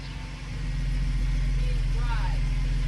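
A Ford Transit campervan idles as it rolls onto levelers, its engine giving a steady, close, low rumble throughout, with a voice briefly heard over it.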